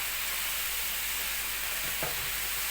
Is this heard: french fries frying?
yes